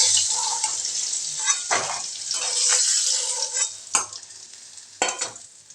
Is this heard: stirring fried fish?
yes